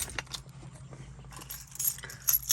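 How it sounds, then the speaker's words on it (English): Car keys for a Chevy Tahoe jangle close up in short, bright metallic bursts. "Gotta get my keys in there."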